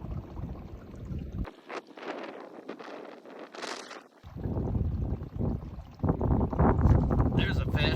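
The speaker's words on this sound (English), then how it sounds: "This wind and this freaking shaky motor killing me, Smalls." Shaky outboard motor on a fishing boat running in strong wind on a lake, a loud rumbling drone with buffeting wind noise that swells and drops, with a voice heard briefly.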